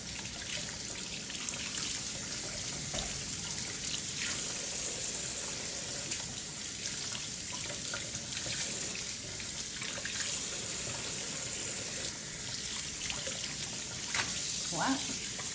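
Cool water runs steadily from a kitchen tap into a sink, a broad, constant hiss and splash that lasts throughout, with occasional drips and a voice in the background.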